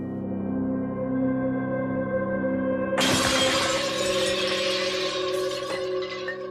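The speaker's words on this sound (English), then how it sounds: "it sounds like the china cabinet falls over, smashing everything" A china cabinet topples and its glass and china smash in a sudden loud crash partway through, followed by a scattered tinkling of breaking pieces over a steady background hum.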